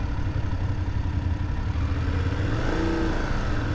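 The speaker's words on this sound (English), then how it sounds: "noisy motorcycles early in the morning" Motorcycle engines rumbling and revving early in the morning outside a Parador hotel in Spain, a low steady drone with a rising rev near the end, moderately close, no talk.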